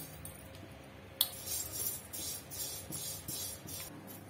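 Homemade vermicelli dry-roasted without oil in a pan, with faint repeated scraping and light clinking of a utensil stirring it.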